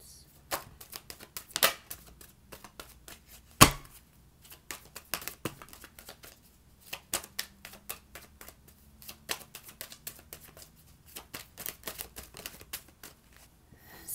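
Tarot cards being shuffled and drawn, soft irregular flicks, taps and slides of card stock at close range, quiet with no talking.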